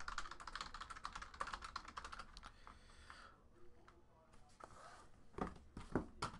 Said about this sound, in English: Let me type in trade window close so that's official.